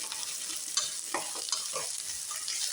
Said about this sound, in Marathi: आता हे भेंडी बरोबरच आपली मिरची आणि लसूण हळूहळू फ्राय होणार आहे